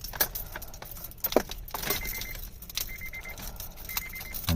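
Car keys jangle in short metallic bursts close by while someone handles the ignition of a 2008 Acura TL, with faint clicks and rustling between the shakes.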